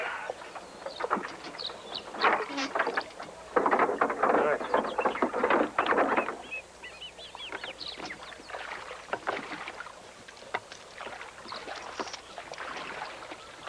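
A rowboat is rowed with oars across water after casting off from a dock, giving uneven splashing strokes and swishes with light wind in the background and people talking over it.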